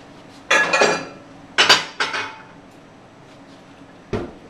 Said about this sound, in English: add the parmesan cheese, pepper, olive oil, mayonnaise and stir to form a dressing